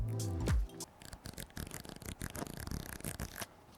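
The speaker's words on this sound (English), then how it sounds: "The wheel also has that mesh imprint on it as well, and it's really nice to" A Sigma BF camera's mesh-textured control wheel spun by hand, a close, fine rapid clicking ratchet that runs for a few seconds after a brief descending tone.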